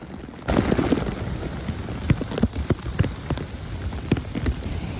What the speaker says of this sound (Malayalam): പച്ചപ്പും ഫോൾസിൽ നിന്ന് വരുന്ന മഴയും.